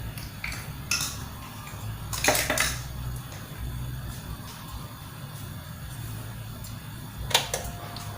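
Pork stir-frying in a wok with garlic, black pepper and a little salt: intermittent metallic clanks and scrapes of a utensil against the pan, with a louder burst near the start and another toward the end, over a steady low background hum.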